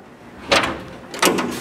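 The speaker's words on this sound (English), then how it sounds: "I'm gonna open the door" Two short broadband bursts about 0.7 s apart from a Chevy car door being opened, mid-level and close, with no talking.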